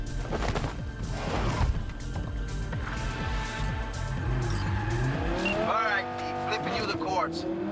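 A car in Cyberpunk 2077 drives hard with a revving engine and repeated tire squeals and skids. Sweeping screeches rise and fall near the end.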